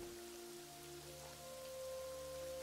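Steady rainfall in the video game Yonder: The Cloud Catcher Chronicles, a soft continuous patter of drops on surfaces under faint sustained tonal music, with no voices.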